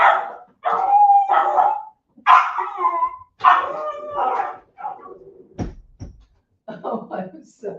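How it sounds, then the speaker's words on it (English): A dog barks amid lively conversation indoors, with the people talking steadily in the foreground and the barking mixed in under and between the voices. "This dog is coming."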